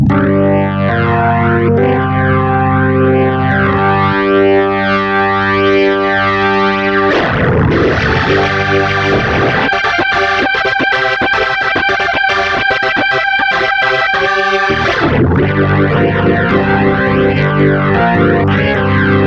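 A Legend Soul 261 organ played with heavy overdrive distortion, gritty sustained chords changing to a busier choppy passage in the middle, loud and alone.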